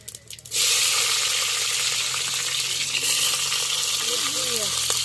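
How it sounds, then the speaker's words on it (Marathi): A spoonful of cumin and mustard seeds with chili hits hot oil, bursting into a loud, sudden sizzle after a brief quiet start, then a dense, steady crackling frying hiss that carries on close by for several seconds. "एक चमचा जिरे मोहरी भाजली, मिरची टाकून घे."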